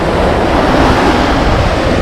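Sea surf breaks continuously on the eroding clifftop coast at Hemsby and Happisburgh, a loud, close wash of churning water mixed with gusty wind rumbling on the microphone.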